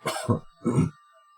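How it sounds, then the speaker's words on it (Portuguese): Two harsh coughs, close and fairly loud, separated by a short pause, with quiet afterward. "Desculpe um pouco dessa tosse."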